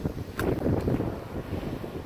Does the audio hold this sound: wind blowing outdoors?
yes